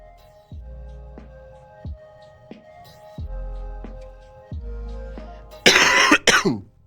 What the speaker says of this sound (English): I should not cough like that. It coughs like right into that mic.